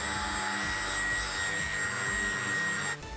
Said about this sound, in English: Then I'm gonna go ahead and spread out the polish on speed setting 1.